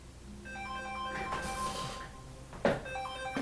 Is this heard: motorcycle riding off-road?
no